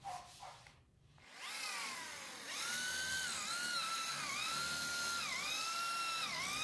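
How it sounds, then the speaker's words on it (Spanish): A Bosch multi-construction drill bit bores in after a brief rustle, settling into a loud, steady high whine whose pitch dips and recovers repeatedly as the bit meets resistance. "voy a cambiar la broca multiconstrucción a ver qué tal funciona"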